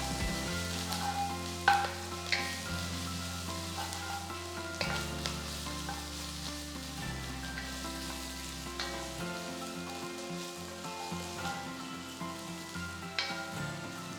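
Slit green chillies sauté in hot oil in a pan while cooking tapioca beef biryani, giving a steady low sizzle with occasional stirring scrapes under background music, with no talk.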